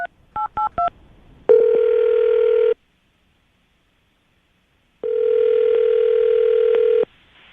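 A telephone line is being dialed: a few quick keypad tones, a steady dial tone for about a second, then a pause and a longer stretch of the same loud tone, all close and clear with no talking.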